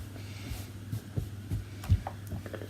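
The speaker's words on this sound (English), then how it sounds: "You're going to hear a lot of that buzzing noise there" Clothes iron giving off a low, steady electrical buzz while being pushed along the seams of a garment, with soft irregular thumps and knocks of the iron over the fabric throughout.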